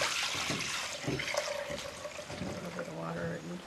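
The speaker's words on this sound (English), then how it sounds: "The buttermilk is then poured off of the butter." Buttermilk pours off freshly churned butter in a bowl, a soft, uneven liquid splash and trickle beneath a voice speaking over it.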